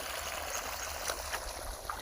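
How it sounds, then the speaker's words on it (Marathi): Steady water flowing and splashing from a farm water pump, with a low continuous motor rumble underneath, fairly constant throughout. "मोटर चालू केलो पाणी"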